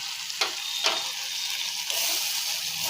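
Spice paste with Kashmiri chilli powder and turmeric frying in a pan, giving a steady close sizzle with a couple of sharper stirring scrapes near the start.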